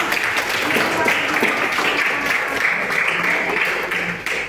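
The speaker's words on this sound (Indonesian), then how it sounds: "Kasih tepuk tangannya." Applause from a high-school class during a Javanese culture history lesson, a steady dense patter of hand claps filling the room, with voices mixed in.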